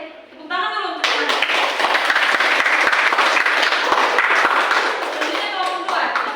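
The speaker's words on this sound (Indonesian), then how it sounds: "Tepuk tangan dulu untuk" Classroom applause from pupils, a dense burst of many hands clapping that starts after a brief voice and holds steady for several seconds before tapering, with talk around it.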